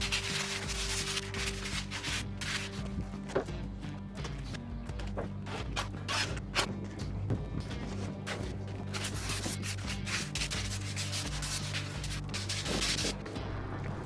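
Steady rubbing and scraping of sanding during touch-up work on a tule elk mount, with repeated strokes running close and fairly loud throughout, alone and without talk.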